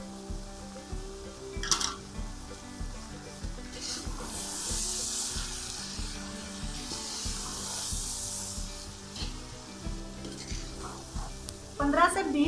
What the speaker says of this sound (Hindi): पंद्रह से 20 मिनट के लिए इन्हें भूनना है